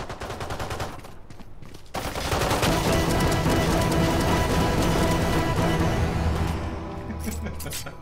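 Sustained automatic gunfire from Valorant rattles out in a long continuous burst as the trigger is held to empty the magazine, loud and dense with rapid evenly spaced shots; a voice talks briefly beneath it.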